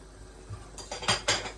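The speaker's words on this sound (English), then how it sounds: "I am then going to add my fish to the sauce." Jamaican brown stew fish pieces dropped one by one into sauce in a metal pot, giving a few close clanks and soft splashy thuds of pot and utensil, with no talk.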